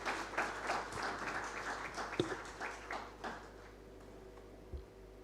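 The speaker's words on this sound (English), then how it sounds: "Can I request we clap for our Sapphire sponsors?" Conference audience of insurance brokers clapping for sponsors, a moderate burst of applause that thins out and fades toward the end, with a couple of sharp knocks and a faint electrical hum beneath.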